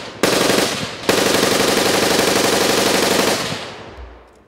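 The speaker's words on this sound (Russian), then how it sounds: "Потом из пулемета." On a test range near Kyiv, a new armored personnel carrier's machine gun fires two long, continuous bursts, loud and close, with the second running for several seconds before it stops.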